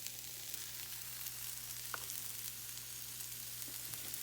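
Fresh cut garlic sautés in a pan, giving a steady, quiet, even sizzle with no voices and only a couple of faint clicks from the pan.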